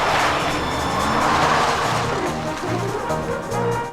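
A fast car, like the one from Smokey and the Bandit, skidding with a loud sustained tire squeal over a roaring engine, close and unbroken for several seconds before cutting off.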